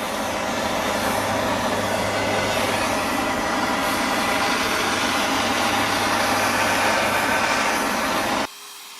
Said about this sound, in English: go at it with the little propane torch here to temper it